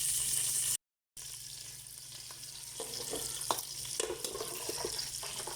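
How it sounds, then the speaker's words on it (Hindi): Fish biryani masala with soaked ingredients frying in a pan gives a steady, close crackling sizzle with light stirring scrapes. The sound is briefly cut to silence near the start, and there is no talk. "अब इसको हम थोड़े से फ्राई होने देंगे और फिर उसके बाद बाकी चीज़ें डालेंगे।"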